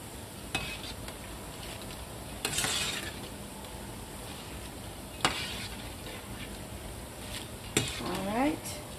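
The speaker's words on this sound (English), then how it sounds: "you want to fry them until you don't hear them sizzle" Boondi batter fries in hot oil with a faint steady sizzle, broken by occasional sharp clinks and scrapes of a utensil stirring against the pan.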